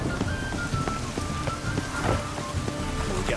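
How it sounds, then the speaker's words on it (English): Steady rain falls in The Witcher 3: Wild Hunt, a dense continuous patter on surfaces with scattered heavier drops throughout, no voices over it. "We get a bonus for working in piss poor weather. Call this rain?"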